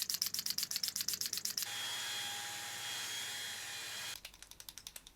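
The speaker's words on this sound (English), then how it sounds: "I'm going to quickly spray my face" A spray bottle is pumped at close range for a steady mist of about two and a half seconds, bracketed by quick rhythmic clicking bursts before and after, quiet and alone with no talking.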